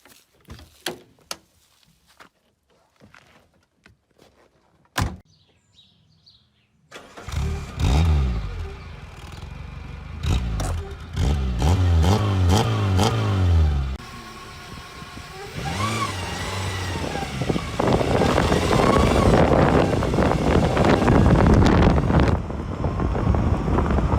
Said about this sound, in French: On va faire un petit démarrage de la voiture pour écouter le petit bruit sympathique qu'elle a.